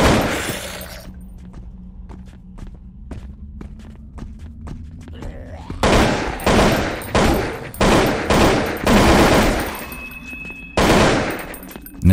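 AK rifle fire in the Zompiercer video game: loud bursts of automatic gunfire in several rapid volleys, preceded by a run of sharp isolated clicks or steps over a low hum.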